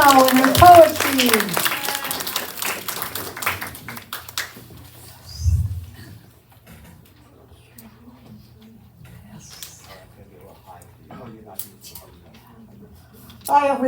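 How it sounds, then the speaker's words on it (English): An audience at a Carmel Foundation variety show applauds poet Judy Dow. The clapping is mixed with a voice for a few seconds, then fades into a quiet room with faint rustles. "warm hand of applause for Judy Dow and her poetry"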